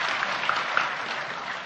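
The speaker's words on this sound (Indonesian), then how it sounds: "Oh, tepuk tangan." Applause from a gathered audience, a steady wash of many hands clapping at moderate distance, with a couple of faint whistle-like tones on top.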